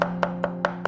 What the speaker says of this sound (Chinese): 一小块生姜切末